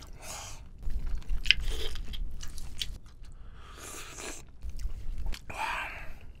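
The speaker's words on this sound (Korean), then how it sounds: "여기 이렇게 내장도 먹어볼게요" Close, crisp crunching, biting and wet chewing as Hanasaki king crab innards are eaten, in several bursts over a few seconds with short pauses and no talking.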